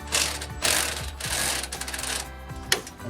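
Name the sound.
wrench removing upper ball joint nut, 18 mm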